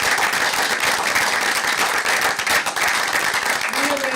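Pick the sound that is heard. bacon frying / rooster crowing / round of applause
round of applause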